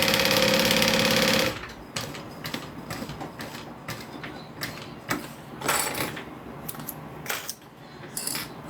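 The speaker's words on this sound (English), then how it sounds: "So I'm going to sew this all together." A sewing machine stitching fabric together runs in a loud, steady whirring burst for about a second and a half, then stops, leaving intermittent clicks, taps and handling knocks at close range.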